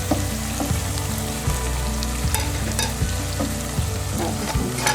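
Okra frying in a pan as cumin seeds go in, a loud continuous sizzle with a rhythmic low hum and occasional stirring clicks, no one speaking.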